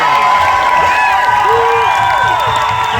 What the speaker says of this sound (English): The crowd was always buzzing. And just listen to the best fans in the league.